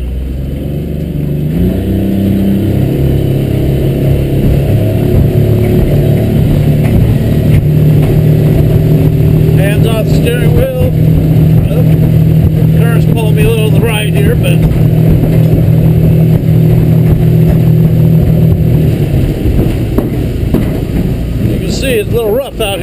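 A Fish Rite Rogue motorboat engine drones steadily at close range, with wind buffeting the microphone and some brief splashing midway.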